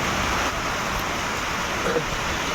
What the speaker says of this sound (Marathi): पाऊस चालला आहे त्याच्यामुळं काय कुठं जाता येत नाही